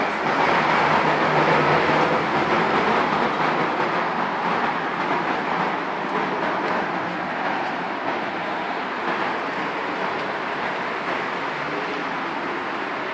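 A tram rumbles past close by at a stop, a steady broad roar with faint rhythmic clatter that gradually eases over about thirteen seconds.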